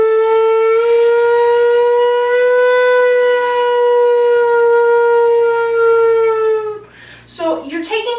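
A low whistle holds a long, pure tone that slides slowly between notes, bending the pitch smoothly, close and clear, before a voice starts talking at the end.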